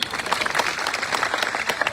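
A crowd of farmers at a protest rally applauding, dense overlapping hand claps heard close and loud for a brief burst.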